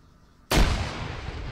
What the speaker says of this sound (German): ich hab Granate geschmissen